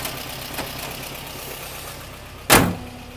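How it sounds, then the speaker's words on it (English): A 1979 Subaru 4WD wagon's hood slams shut with a single sharp, loud thud near the end, after a quiet stretch with a faint earlier knock and no talking. "I'm going to put the hood down."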